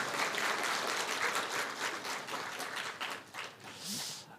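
A congregation applauds during a Sunday morning church service in Korea, with dense, steady clapping from many hands that gradually thins toward the end.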